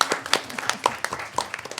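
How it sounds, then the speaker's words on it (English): A small audience at a high school district event claps briefly to welcome a school principal, with scattered, uneven hand claps lasting under two seconds and no voices over them. "We clap."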